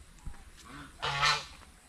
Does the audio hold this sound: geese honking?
yes